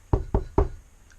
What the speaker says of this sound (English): The pig knocked on the door